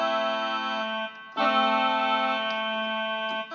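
Yamaha PSR-443 electronic keyboard set to a khaen-like reed voice plays steady droning chords, held notes with a brief break, fairly quiet and alone.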